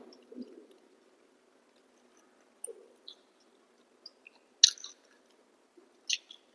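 Someone chews luchi with a potato, pointed gourd, paneer and pumpkin curry in a quiet room, with a few soft, sporadic crunchy bites and pauses between them, close to the microphone.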